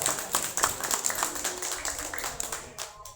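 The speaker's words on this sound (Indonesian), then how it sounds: "Kasih tepuk tangan, kasih tepuk tangan." Scattered hand clapping at a ceremony with an official representative of the Bojonegoro regent, a small gathering clapping unevenly for about three seconds with no talk over it.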